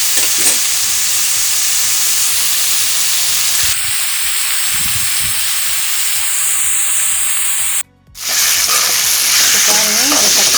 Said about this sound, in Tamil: இந்த கத்திரிக்காய் கொஞ்ச நேரம் எண்ணெயிலே வேகட்டும்